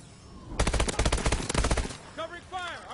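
A close, loud burst of automatic gunfire from Call of Duty Advanced Warfare rattles for about a second and a half as rapid shots, then gives way to a voice speaking.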